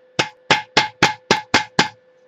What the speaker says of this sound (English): When I hammer this flat,